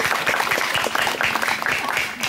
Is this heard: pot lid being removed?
no